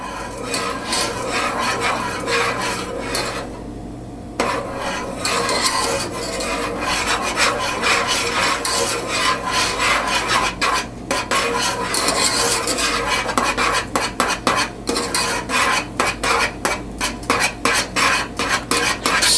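A utensil stirs melting chocolate in a pot for hot chocolate, producing a continuous rough scraping and rubbing against the pan that briefly pauses early on, then resumes in quicker, choppier strokes toward the end.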